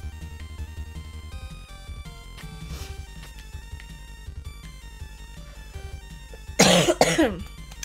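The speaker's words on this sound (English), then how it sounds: "Oh, I'm having a coughing attack." A short burst of harsh coughing near the end, loud and close, following several seconds of quiet background music.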